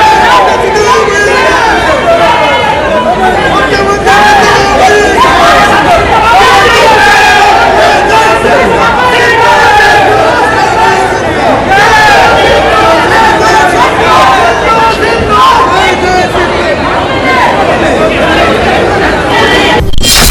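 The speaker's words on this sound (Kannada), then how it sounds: "ನೆಚ್ಚಿನ ನಾಯಕನಿಗೆ ಕಾರ್ಯಕರ್ತರ ಜೈಕಾರ ಜೋರಾಗಿತ್ತು." A loud, dense crowd of Congress party workers shouting and chanting for the Chief Minister, continuous overlapping voices and cheers close by throughout.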